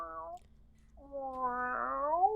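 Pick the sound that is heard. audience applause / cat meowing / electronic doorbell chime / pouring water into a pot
cat meowing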